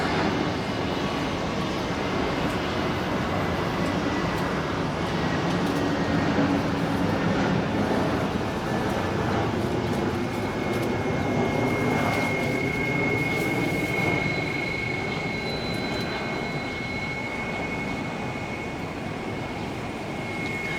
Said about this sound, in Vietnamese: Còn bây giờ chúng ta sẽ tới với Airbus A321 của hãng không Vietjet Air đang bước vào hạ cánh.